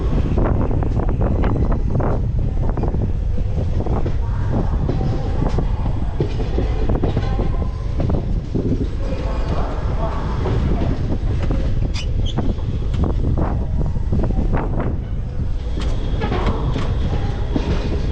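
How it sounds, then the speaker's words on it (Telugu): Express train rushing past close by at Charlapalli station, a continuous loud roar of wheels and rushing air with rhythmic clatter and buffeting wind noise on the microphone throughout. "ఇందాక మనకి ఓటీ కొట్టింది కదా, అదే ఎక్స్ప్రెస్ అది."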